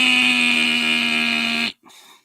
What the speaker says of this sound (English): That's my buzzer sound.